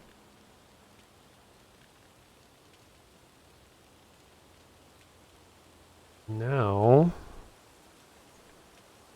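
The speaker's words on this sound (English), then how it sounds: "we can listen to the sound of rain as I look for who to host." Rain in the video game Book of Travels, a soft, steady hiss of falling drops throughout, briefly interrupted by a short spoken word.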